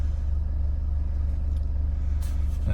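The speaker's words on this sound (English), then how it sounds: "I'll just start the car so you can see there's no funny noises" A 2014 Nissan X-Trail 2.0 dCi diesel engine idles steadily with a low, even rumble throughout, close by and fairly loud, with no voices.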